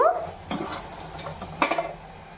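Ingredients fry in a pan with a soft, close sizzle under a few spoon-against-pan scrapes and light metallic taps.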